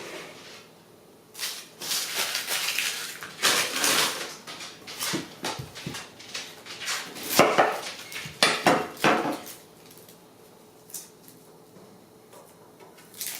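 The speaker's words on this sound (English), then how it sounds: "the first thing we're going to do is get our onions chopped up" Onions chopped with a knife on a board in a home kitchen, a series of irregular, fairly faint knocks and taps in scattered clusters with quiet gaps between.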